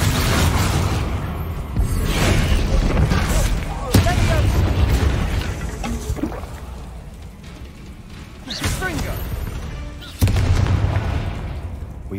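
Fire spell explosions in Hogwarts Legacy, several heavy booms with crackling, roaring bursts at intervals amid dense combat noise, loud and close, with talk in the background.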